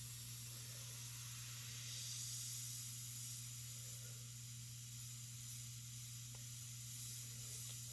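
A Gaahleri Mobius 0.2 airbrush sprays with plenty of air flowing, producing a steady, faint, continuous hiss over a low constant hum, with no speech.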